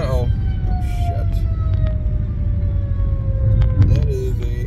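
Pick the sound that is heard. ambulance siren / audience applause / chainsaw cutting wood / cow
ambulance siren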